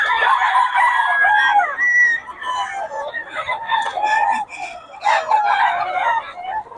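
Farm chickens and roosters, three-year-old birds, crow and cluck close by in loud, overlapping calls that rise and fall without a break.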